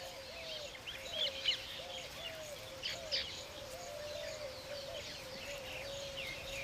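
Nest-building weaver-type bird calling: a string of short, faint chirps and twittering notes repeat through the whole stretch over a steady outdoor background, with a few brighter calls standing out.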